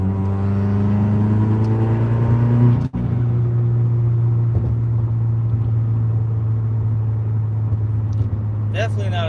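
Subaru car engine idling with a steady low exhaust drone and a brief drop at about three seconds, running continuously and loud close by with voices underneath.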